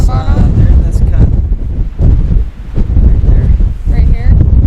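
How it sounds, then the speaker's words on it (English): Strong wind roars steadily across the microphone, buffeting loudly throughout with rumbling gusts and rustling, no clear speech on top. "it's just so windy"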